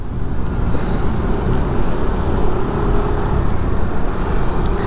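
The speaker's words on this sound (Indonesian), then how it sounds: "Cukup crowded, cukup macet." Dense congested traffic rumbles along Jalan Batu Belik in Bali, a loud continuous roar of cars and motorbikes close by with no pauses, no voices over it.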